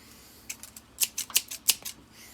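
Several quick scissor snips cutting magnetic tape for an 8-track cartridge, about six sharp crisp cuts in an irregular burst, close and fairly loud in a quiet room with no talking.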